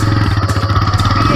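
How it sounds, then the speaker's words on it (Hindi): A motorcycle engine chugs loudly and close with a rough, uneven rhythm, sputtering as if about to stall, out on a ride near sunset. "बाइक बंद हो रही है"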